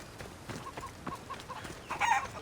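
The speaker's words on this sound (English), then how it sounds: "Chickens!" Chickens cluck in the video game Assassin's Creed Odyssey, a run of quiet, faint, rhythmic clucks ending in a louder squawk.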